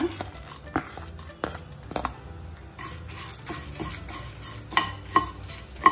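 Coriander seeds, cinnamon and cloves dry-roasting in a pan, stirred with a metal spoon that scrapes and clinks sharply at irregular intervals over a faint background sizzle.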